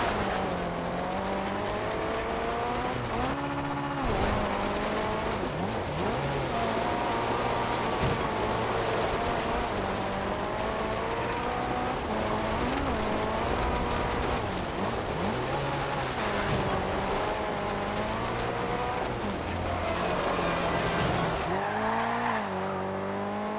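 Engine of a 2011 BMW X5 M in Forza Horizon 2, revving steadily as it climbs and drops through the gears with tire squeal mixed in, loud and continuous throughout with no voice over it.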